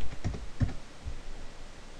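A few quick clicks on a computer keyboard as a password is typed, close and fairly soft, three or four keystrokes in about a second and then quiet.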